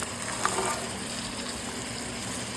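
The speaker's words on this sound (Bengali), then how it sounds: "ওটা দিয়ে দেবো জল, দিয়ে দেবো সব উপকরণগুলো" Water pours steadily into a pan of dried fish with beans, a continuous close gushing that begins with a brief splash and holds at an even level.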